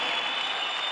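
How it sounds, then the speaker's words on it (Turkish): A boxing crowd at a World Series of Boxing bout between Murtuzaliyev and Katende bursts into a brief, dense wash of clapping that holds at an even level. "Belki alkış gelsin hem Azamat'a hem Katende'ye."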